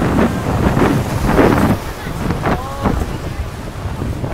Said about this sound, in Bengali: এই দেখো প্রায় জলের ঢেউ আসছে